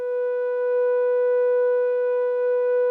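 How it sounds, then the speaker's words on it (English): A pure, steady sine-wave tone from a FabFilter synth holds at one pitch for the full three seconds, clean and constant with faint overtones and no other sound. "you can turn off the sine wave"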